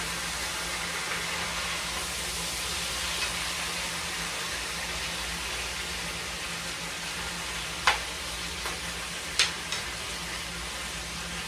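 Pork snack sticks grill in a frying pan on a stovetop with a steady, close, hissing sizzle throughout, broken by a few brief sharp pops and clicks near the end.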